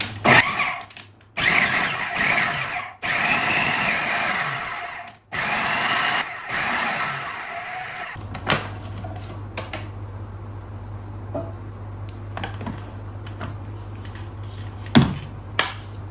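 A food processor pulses flour and butter into crumbs for a chicken empadão pie: several loud whirring bursts separated by short gaps, then it stops, leaving a steady low hum with faint clicks.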